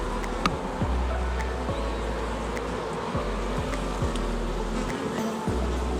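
A swarm of honeybees being caught into a hive buzzes as a dense, steady drone close by, with a few individual bees zipping past the microphone and no voices.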